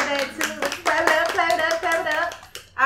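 A small group of women applauding during a casual podcast chat, a few quick bright claps and patting hands mixed with voices and laughter close to the microphone.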